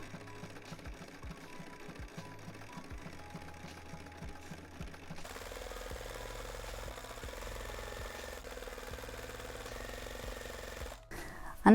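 A sewing machine top stitches a seam on a skirt made from upcycled jeans, running in a fast steady mechanical whir, first with rhythmic ticking then a smoother hum, close and moderate in level.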